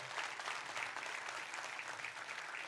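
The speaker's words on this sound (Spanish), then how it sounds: "Denle un fuerte aplauso a Dios por eso." Steady applause from a church congregation during a sermon, a dense continuous clapping that holds at an even level throughout, somewhat distant.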